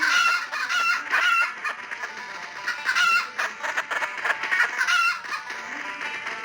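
Chickens being chased around a yard cluck and squawk loudly and continuously, with agitated overlapping calls and a rooster-like crow rising and falling across the stretch.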